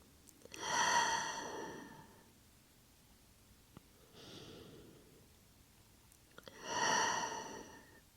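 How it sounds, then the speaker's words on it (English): Two slow, deep breaths taken during a yin yoga session, each a long, airy inhale-exhale swell, quiet and close, with a softer breath between them and no talking. "Take 2 deep breaths here."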